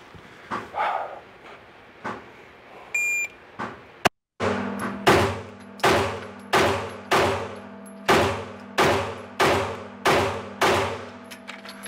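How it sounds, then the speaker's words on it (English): A pistol fitted with a Steiner MPS red-dot optic fires ten rapid, evenly spaced shots in a timed drill, each crack loud and close with a short ringing tail; a brief electronic timer beep and faint movement come before the string. "there was 10 shots"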